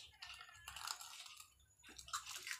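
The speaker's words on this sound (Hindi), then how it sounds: "मिट्टू क्या खाता है मुरमुरे खाता है" A pet parrot eats puffed rice that has been soaked in water, giving soft, wet crunching and mushy chewing sounds in short close bursts with brief pauses.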